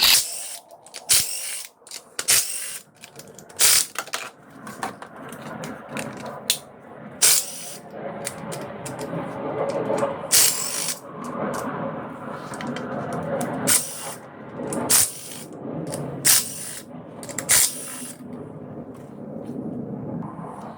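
A ratchet working loose the 8mm valve cover bolts on a Land Rover Evoque or Discovery Sport engine, in bursts of rapid metallic clicking separated by pauses and brief handling noises, close and loud.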